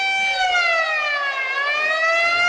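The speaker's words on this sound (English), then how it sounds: "Hold on, I need to punch the fuse box for this siren." A wailing siren in the brawler video game Streets of Rage 4 sounds loud and steady, its pitch sweeping down and back up once over a couple of seconds, with no talk over it.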